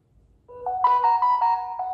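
Phone message notification ringtone sounding as a text arrives on a betting-slip editing software setup, a short bright melodic chime of several rising and sustained tones, clear and alone.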